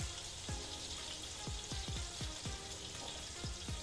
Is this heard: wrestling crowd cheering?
no